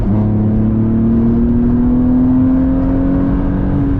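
An engine-swapped BMW E36 revs steadily upward toward the rev limiter, a loud sustained engine drone rising slowly in pitch from inside the car, with no talking over it.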